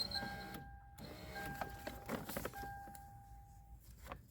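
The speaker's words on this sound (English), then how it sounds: "Now watch the window work now since I did that" Power window motor in a 2001 Toyota Camry door running in several steady whirring bursts with short pauses between them, near and moderately loud, with faint clicks and handling noise around the motor runs.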